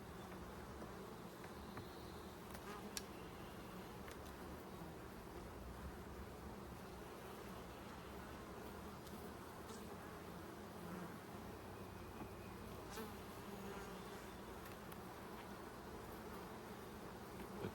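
Honey bees buzz steadily around an open hive during an inspection of honey supers and brood boxes, a dense continuous hum with individual bees zipping close now and then, no talking.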